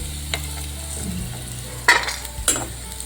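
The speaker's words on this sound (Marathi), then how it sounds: "हे बघा थोडेसे हे शालो फ्राय करायचे जास्त एकदम डार्क फ्राय करायचे नाही आहे" Sun-dried lentil dumplings (sandge) shallow frying in oil, a faint background sizzle with a couple of sharp spatula scrapes and clinks against the pan near the end.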